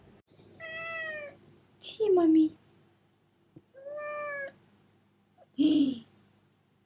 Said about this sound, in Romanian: Asta este pisica ideală.